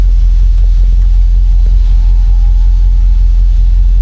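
A 1964 Cadillac DeVille convertible's engine runs with a steady, loud low rumble throughout, close by, with no clear separate cranking burst.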